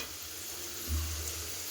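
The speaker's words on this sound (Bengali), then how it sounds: "পেঁয়াজটা ভাজা হয়ে গেছে এবার এর মধ্যে মশলাটা দিয়ে দেবো" Spices tipped into fried onions in a home kitchen pan for chicken, giving a steady close sizzle that briefly swells louder as they hit the oil, with no talking.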